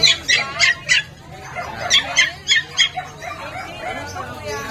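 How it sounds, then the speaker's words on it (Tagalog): A black Pomeranian at a pet market gives a run of high, sharp yips and whimpers in quick bursts, close by, with people talking around it. "Ito, black naman ang Pomeranian."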